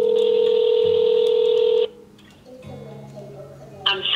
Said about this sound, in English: I'm about to call Mr. Max right now and make a reservation for October 8th